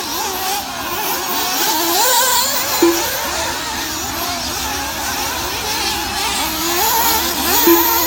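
Several nitro RC buggies race around a dirt track in a main event, their small high-revving engines whining and buzzing continuously, rising and falling as they accelerate and pass, steady and fairly loud throughout.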